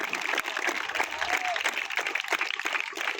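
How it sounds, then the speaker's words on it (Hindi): Dense, steady applause from a crowd of children at a school football tournament, continuous clapping throughout with a lively, bright texture and no clear pauses. "बच्चे तालियों से उनका उत्साहवर्धन कर रहे हैं"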